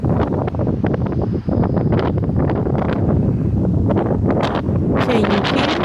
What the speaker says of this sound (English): Can you hear how high the wind was?